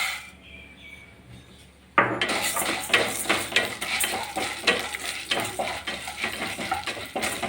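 Toor dal roasting in coconut oil in a pan, starting as quiet room tone, then a sudden burst of sizzling with repeated scraping and clinking strokes of a spoon against the metal pan, close and continuous, no talking.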